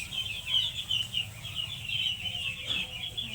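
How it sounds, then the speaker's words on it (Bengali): Khaki Campbell ducklings feed on maize meal and rice powder, giving a steady chorus of high, thin peeping and chirping that runs continuously throughout at close range, with no talking. "এগুলো হচ্ছে খালি ক্যাম্বেল হাঁস।"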